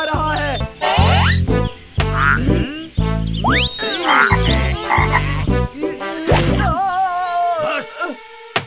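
Cartoon frogs croak in a Chhota Bheem episode, their bouncy, tonal calls bursting in loud, rapid clusters over background music throughout.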